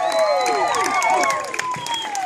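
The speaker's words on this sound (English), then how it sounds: "let's give a big round of applause for these lovely ladies" Luau audience applauding and cheering with whistles after a Tahitian Otea dance performance, a steady, dense wash of clapping with rising and falling whistle tones throughout.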